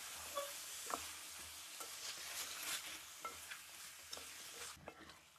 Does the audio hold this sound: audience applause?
no